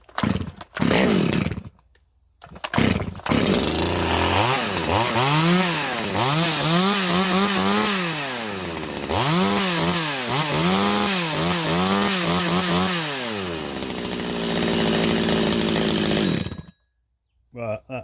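A 25-year-old Stihl 020T chainsaw runs outdoors after an exhaust replacement, loud and close, revving up and down repeatedly in rising-falling sweeps before cutting out, with brief pauses near the start.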